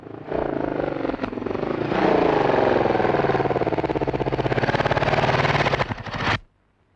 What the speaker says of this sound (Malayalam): ഒരു മോട്ടോർ സൈക്കിളിന്റെ ശബ്ദം.